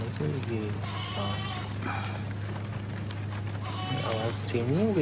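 Goats bleat several times in wavering cries over a low steady hum, with people talking nearby.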